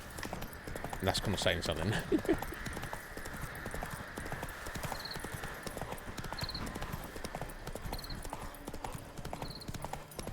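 Steady clip-clop of the horse Roach galloping in The Witcher 3, a continuous rhythmic hoofbeat under someone talking throughout.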